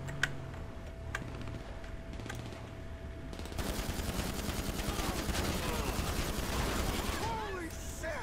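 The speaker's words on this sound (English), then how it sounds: "Who else is shooting at me?" Gunfire in GTA 5 Online: a few isolated sharp shots, then a sudden burst of rapid, continuous automatic fire that rattles on densely for several seconds in a busy game scene.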